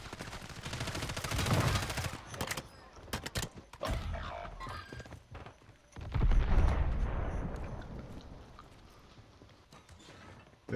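Call of Duty gunfire rattles out in loud, dense automatic bursts and rapid shots, with brief gaps between volleys and a heavy, booming low end.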